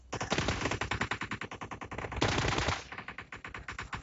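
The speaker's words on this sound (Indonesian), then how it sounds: "Oh, kita tembak zombie kayaknya." Rapid automatic gunfire fired at zombies in the mobile battle-royale game PUBG Mobile, a dense, loud, continuous burst of shots that swells briefly before settling back into a steady rattling rhythm.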